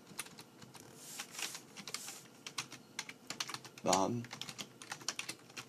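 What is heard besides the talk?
typing on a computer keyboard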